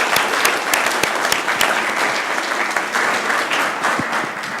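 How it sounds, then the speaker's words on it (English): A city council meeting audience gives elementary school students another round of applause, a full, steady wash of many hands clapping, fairly loud and close, with no talk over it. "Let's give them another round of applause,"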